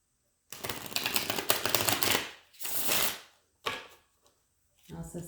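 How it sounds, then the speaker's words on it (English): Tarot cards being pulled from a deck and handled in a few loud, close bursts of papery rustling and slapping, separated by short pauses. "I'm being told to pull these other cards here, so let me get these"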